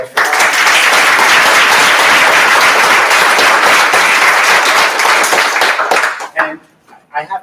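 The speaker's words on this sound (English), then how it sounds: "So we're going to applaud for Bob" A crowd at a school board meeting applauds loudly and steadily for several seconds, then the clapping fades out into a few scattered claps.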